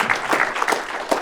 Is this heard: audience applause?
yes